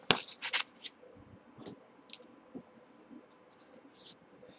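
Pen scratching on paper in short bursts while working a math problem, close and fairly quiet, with faint rustling and pauses between strokes.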